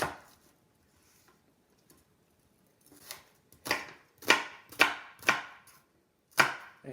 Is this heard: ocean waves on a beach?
no